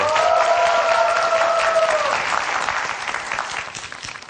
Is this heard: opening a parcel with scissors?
no